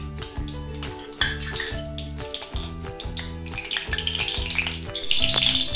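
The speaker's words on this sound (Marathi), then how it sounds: "कढई गरम करत ठेवले, आता तूप टाकते।" Ghee hitting a hot kadhai for carrot halwa gives a soft, steady sizzle that swells into a brighter hiss near the end, heard close over low background music.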